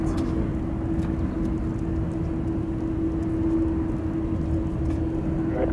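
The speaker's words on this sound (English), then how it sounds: "Runway 28 left, clear for takeoff" An airliner taking off from runway 28 left at SFO, a constant low roar with a steady droning hum, sustained and unchanging across the whole stretch, heard from a distance with no speech.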